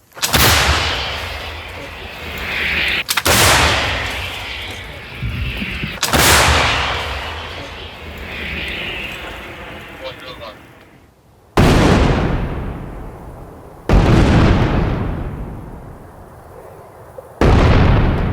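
Several heavy artillery blasts boom one after another, each a sharp, loud crack followed by a long rumbling decay.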